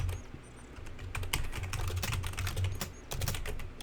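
Fast, steady keyboard typing while playing a Quest for Glory game, a dense stream of close clicks and key taps over a low background hum, with no talk.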